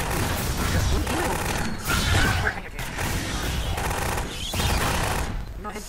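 Rapid automatic gunfire bursts from the top-down shooter Alien Swarm, dense and continuous with brief lulls, mixed with mechanical clatter and a player voice talking over the fighting.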